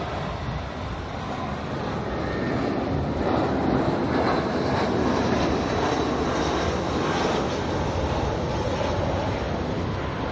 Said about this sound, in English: Jetstar A320 coming in from Queenstown next.